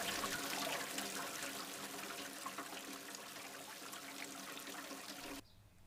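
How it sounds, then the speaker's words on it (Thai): Water runs steadily from a bathroom sink faucet in a continuous close trickle for about five seconds, then cuts off abruptly near the end. "ฉันก็เหมือนจะได้ยินเสียงก๊อกน้ำที่อ่างล้างหน้าเปิด"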